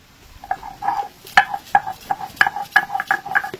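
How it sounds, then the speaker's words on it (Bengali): Ginger being crushed into a dry paste, heard as a series of close, rhythmic pounding and grinding knocks with hard ringing contacts, about a dozen strikes in quick succession with no talking. "তো আদাটাকে আমি একটু থেতো করে নিই। একদম শুকনো শুকনো করে বেটে নিতে হবে"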